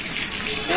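Water gushes over an elephant being bathed at a traditional village fair, a short, close, splashing pour with a voice faintly underneath.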